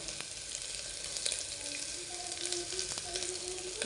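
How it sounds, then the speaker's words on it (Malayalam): Ginger, garlic and green chili fry in a pan as the base for a beef curry, giving a soft, continuous sizzle with occasional stirring taps close by. "ഇനിയിപ്പോൾ ഇതിനകത്തിടുന്നത് ഇഞ്ചിയും പേസ്റ്റും വെളുത്തുള്ളിയും. ഇഞ്ചി, വെളുത്തുള്ളി, പച്ചമുളക്."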